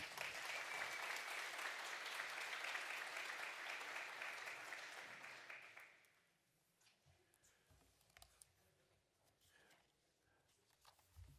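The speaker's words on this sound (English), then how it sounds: "please give a round of applause for John Henry" An audience at a business leadership masterclass applauds a regional chair as he comes up, a steady round of clapping for about six seconds that fades abruptly into quiet room noise with faint scattered sounds.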